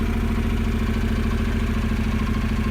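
A motorcycle engine idles out of gear after an electric start, giving a steady, loud, close mechanical thrum with an even pulsing rhythm and no voices.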